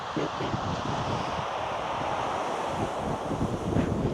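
Cold coastal wind buffets the microphone at Chesil Cove during a fishing session, a steady gusty rush with low rumbling, and a person talks over it.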